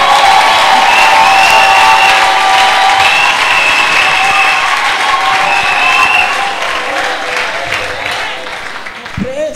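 A church congregation applauding and cheering during a service, a loud sustained wash of clapping with crowd voices that slowly eases toward the end.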